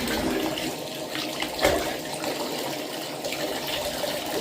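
Warm tap water runs steadily from a faucet into a sink or tub while preparing to bathe a Maine Coon cat, a continuous close splashing hiss with no talk.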